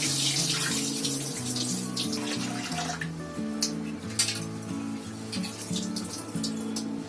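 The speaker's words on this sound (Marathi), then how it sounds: "तांदूळ आहे ना चांगले 2-3 वेळा धुवायचे" Rice being washed under running tap water, a steady close rushing stream throughout with soft melodic tones playing underneath.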